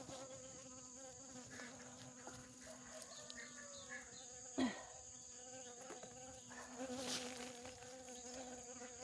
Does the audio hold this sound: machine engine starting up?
no